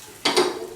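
A spoon stirs spices and salt into tofu masala in a pan, giving one brief scraping swish with a faint sizzle after a quiet moment.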